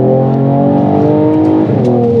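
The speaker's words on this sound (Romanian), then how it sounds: "Și evacuarea se aude" A Mercedes-AMG E53 Coupe with a Stage 2 tune revs its exhaust loudly and up close, a steady throaty drone with rising and falling harmonics that holds throughout with no talk.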